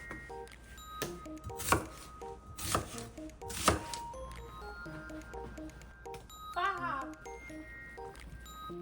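Washed onion being chopped on a cutting board in a home kitchen, several sharp knife strikes in quick succession over a light backing of tinkling music and chimes.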